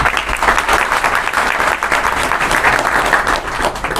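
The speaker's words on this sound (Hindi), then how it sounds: "उन गुरुओं के लिए तालियां" Loud, sustained applause from a large crowd at a political rally in Haryana, steady dense clapping filling the whole stretch without a break.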